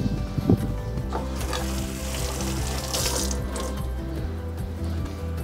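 Carrots washed under a running tap, a steady close gush of water splashing into a sink with a few faint knocks and handling sounds, no one speaking.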